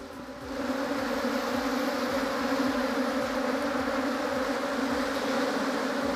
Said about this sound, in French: voici les faux bourdons. Voici un faux bourdon ici, là